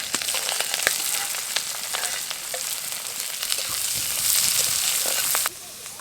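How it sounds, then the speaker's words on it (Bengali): Chopped onion with garlic, ginger and green chilli sizzles steadily in hot oil for village-style egg chowmein, a dense continuous crackle with scattered sharp pops and occasional stirring scrapes, loud and close, no voices. "পেঁয়াজটাকে এখন হালকা বাদামি রং ধরা পর্যন্ত ভেজে নেব।"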